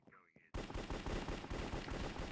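Rapid automatic gunfire in a Minecraft Hypixel Cops and Criminals match, a dense loud burst of repeated shots starting abruptly after a short quiet moment with faint game sounds.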